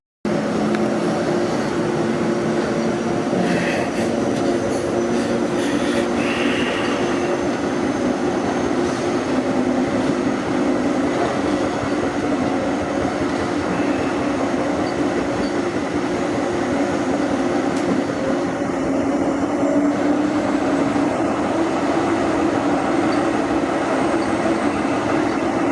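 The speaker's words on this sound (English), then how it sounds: "There's another A-class tram shunning past as well." An A-class tram rolls past on the St Kilda light rail line, a steady low rumble and hum that holds for the whole stretch, close and fairly loud, with faint higher squeals and clicks over it and no talk.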